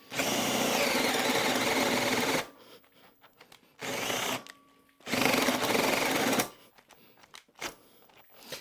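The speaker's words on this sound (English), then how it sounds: "We'll put it onto the fast speed for the drilling." Loud, close drilling with a Bosch FlexiClick cordless drill driver on fast speed, in several bursts, the motor whining steadily, then stopping and restarting, with quieter gaps and faint clatter in between.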